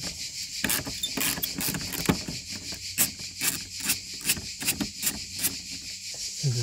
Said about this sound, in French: il faut enlever les deux vis du diffuseur du pare-choc arrière